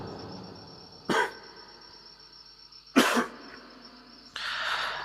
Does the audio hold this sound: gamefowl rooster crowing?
no